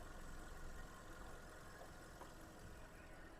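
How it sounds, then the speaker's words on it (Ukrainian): A 2010 Volkswagen Touran 1.6 MPI petrol engine idles steadily with a dense, even rumble that never changes pace, heard close and continuous throughout. "Мотор працює дуже приємно."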